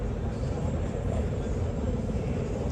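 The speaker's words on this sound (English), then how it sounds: "That's a helicopter that we can hear overhead." Inside the Arma 3 video game, a helicopter passes overhead as a steady, dense low rumble and whir at moderate loudness that holds throughout.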